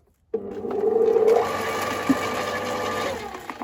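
A FERREX GSR 2800 electric garden shredder, rated 2800 W and chipping cherry and grapevine branches, starts abruptly and runs with a loud, steady motor whine whose pitch shifts as branches load it.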